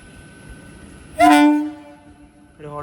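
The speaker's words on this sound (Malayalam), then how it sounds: "ഒരു ഹോൺ അടിച്ച് വന്നു." An arriving MEMU train near Walayar railway station sounds one short, loud, tonal horn blast that fades over about half a second, followed by a fainter second tone at the end.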